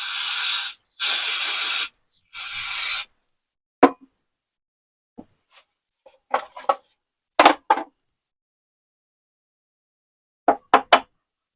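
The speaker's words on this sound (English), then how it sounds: "I'm going to take some carb spray." Carburetor cleaner sprayed from an aerosol can into the float bowl of a John Deere X320 lawn tractor carburetor: three loud, steady hissing bursts of about a second each, followed by scattered quiet knocks and clicks.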